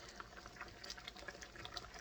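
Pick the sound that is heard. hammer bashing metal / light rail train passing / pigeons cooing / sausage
sausage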